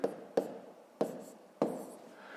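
Pen strokes writing numbers by hand on paper during a fifth-grade maths addition exercise, four distinct scratchy taps spaced irregularly, quiet and close, with no talking.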